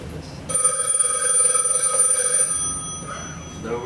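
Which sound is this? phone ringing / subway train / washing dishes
phone ringing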